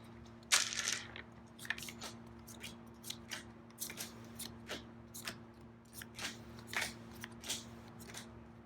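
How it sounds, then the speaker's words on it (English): Hero cards for a fantasy board game being shuffled by hand on a table: a series of irregular crisp riffling and snapping bursts, close and fairly quiet, with no talking. "let Mark shuffle out the heroes"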